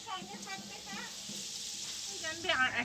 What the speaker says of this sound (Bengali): এদিকে আলুগুলো ভাজা চলছে